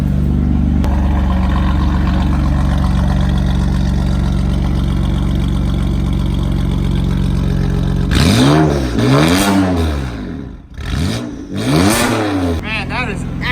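A rebuilt BMW M4 with an ARMYTRIX exhaust idles with a steady low drone, then revs hard several times in sharp rising and falling blips, loud and close.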